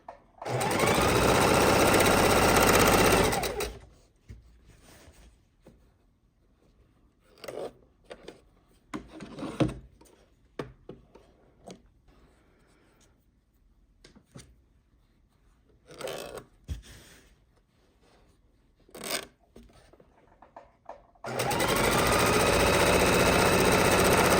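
A home sewing machine stitches along the edge of a home decor fabric tote bag in two long steady loud runs at the start and end, with scattered handling and rubbing noises between them.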